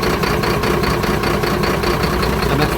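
A Mercedes truck engine idles with cylinder 1 cut out during a misfire diagnosis, giving a steady, loud, close rumble with a regular uneven pulse throughout.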